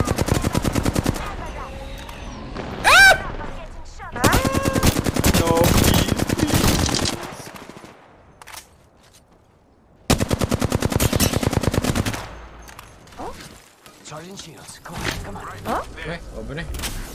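Automatic gunfire in a first-person video game shooter rattles out in loud rapid bursts separated by short gaps, with a player talking excitedly over and between the shots.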